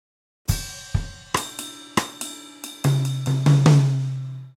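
A drum kit plays a groove bar: sharp kick, snare and cymbal hits, then tom strokes building in a crescendo while the right-hand cymbal stays steady, played close and clear with no talking.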